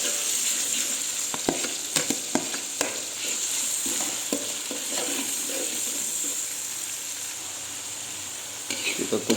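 Chili frying in a pan with wilted tomatoes for sambal, a steady broadband sizzle throughout with scattered sharp clicks of a utensil against the pan, close and moderately loud, with a faint voice underneath.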